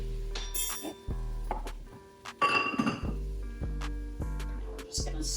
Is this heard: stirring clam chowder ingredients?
yes